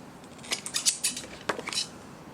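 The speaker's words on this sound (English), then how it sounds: "I'm using my fabric scissors to cut plastic" Fabric scissors make several quick, crisp snips and crackles through a stiff plastic acetate sheet, close by, in two short bursts with no talking.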